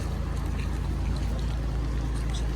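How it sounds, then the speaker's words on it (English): Gullfoss waterfall in Iceland roars as a steady, dense wash of falling water, continuous and unchanging, heard from some distance with no talking. "Anyways, the waterfall's over here."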